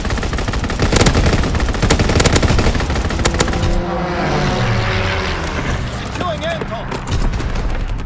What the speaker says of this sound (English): Strafing run inbound.